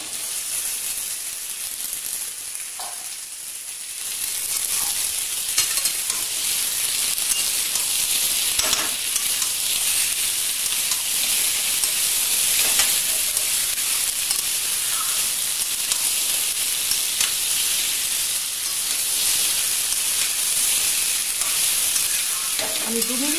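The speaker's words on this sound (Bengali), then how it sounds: "এবার আমি এর মধ্যে সেদ্ধ করে রাখা আলুটা দেব একটু ফ্রাই করার জন্য।" Boiled potatoes fry for dum aloo in a hot pan, giving a steady close sizzle and hiss that swells after a quiet start and carries on with occasional stirring scrapes.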